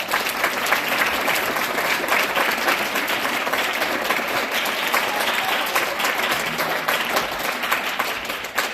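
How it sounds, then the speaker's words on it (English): Sustained applause from a school concert audience after a wind ensemble performance, dense steady clapping holding at an even level for several seconds before easing off at the end. "Give yourself a round of applause."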